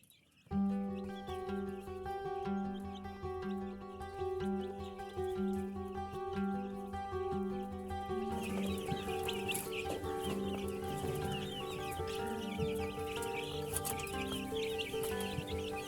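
Local chickens clucking and scratching around in a coop, their busy chatter running continuously beneath steady background music that plays throughout.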